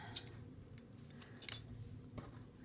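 Scissors snipping material while a journal is being made: a few faint, sharp cuts spaced apart, close but quiet against a low background hum, no talk.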